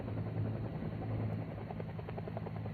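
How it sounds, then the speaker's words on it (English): A UH-1 helicopter's rotor gives a steady, loud, continuous drone with a rhythmic beat, heard alone without voices. "The helicopter pickup must be made at this time."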